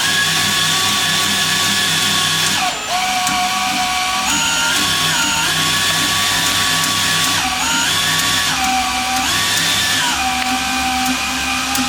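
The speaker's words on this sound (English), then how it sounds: "you can use an electric drill" A steady, loud electric drill motor whine powering an archery bow press, its pitch dipping and rising several times as the load changes, running continuously without talk.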